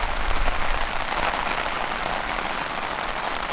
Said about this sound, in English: Nightmare. It's chucking down,